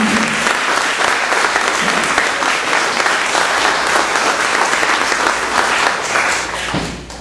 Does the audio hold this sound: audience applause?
yes